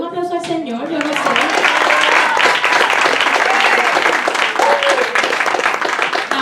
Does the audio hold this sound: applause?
yes